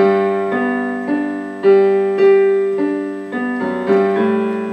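A piano plays a bouncy, repeating chord pattern in a southern rock feel, each chord struck firmly and left to ring, with no voices.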